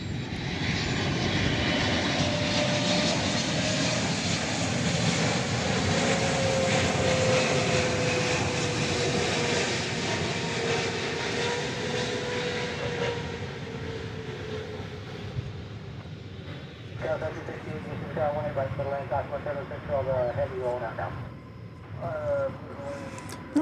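A jet airliner roars loudly and steadily close by at an airport, its broad engine rumble slowly fading over about twenty seconds, with faint clicking and rattling sounds in the closing seconds.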